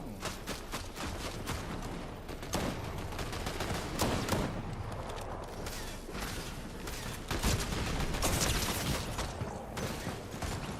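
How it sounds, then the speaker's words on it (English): Gunfire in Fortnite, dense rapid volleys of shots crackling continuously at close range, loud and sustained throughout with no pause and no talking. "How did I shoot above his head?"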